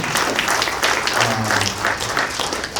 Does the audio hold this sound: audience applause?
yes